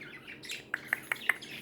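Several male budgies chirp in a row, four bright, sharp calls spaced evenly over soft background twittering, close and alone with no talk.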